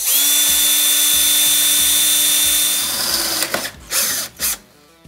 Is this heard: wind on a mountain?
no